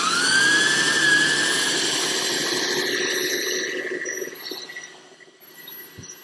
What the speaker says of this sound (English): I'm going to take a 4x24 belt sander, turn it upside down.